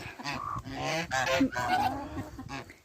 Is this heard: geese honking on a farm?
yes